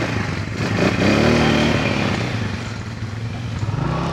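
Motorcycles passing on a rainy rough mountain road near Tanay, Rizal, engine noise swelling loudly close by and then easing off as they go past.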